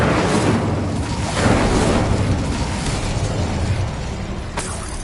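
Fiery spell blast from Hogwarts Legacy, a dense roaring burst that sustains loudly for several seconds with crackling debris, a sharp crack near the end.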